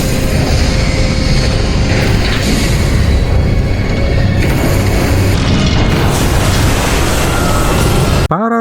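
A Shinkansen train explosion in a film: a loud, continuous roaring blast with heavy low rumble and crackling debris fills the scene, ending abruptly in silence.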